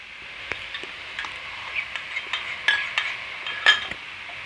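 Metal spoon stirring yogurt into a tomato and mint masala in a pot for fish biryani, repeated clinks and scrapes against the vessel in an uneven rhythm, close and fairly loud, with no talking.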